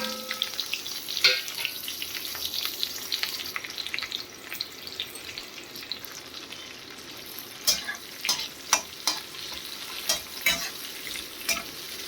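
Cumin and chopped onion fry in hot oil in a kadhai, giving a steady soft sizzle broken by sharp crackles and stirring scrapes, close by and fairly quiet.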